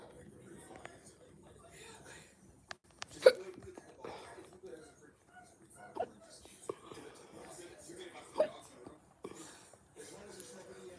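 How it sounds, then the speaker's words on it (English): A person hiccups several times during a live stream, sharp isolated hiccups spaced a few seconds apart over soft whispering and low talk. "why do I have the worst hiccups ever right now?"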